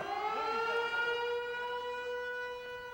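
A civil defense siren opening trout fishing season in Missouri wails steadily for the whole stretch, a loud, sustained rising-and-holding tone with rich harmonics and no voices.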